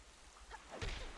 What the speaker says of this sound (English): I actually do like this ambience of the rain.